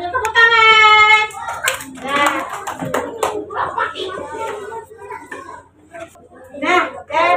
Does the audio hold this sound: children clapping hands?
yes